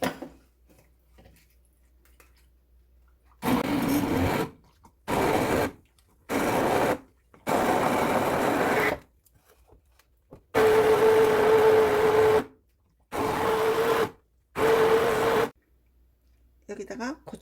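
A blender grinds radish with water for kimchi in several loud bursts of two to three seconds each, separated by short pauses, with the motor pitch rising in the later runs.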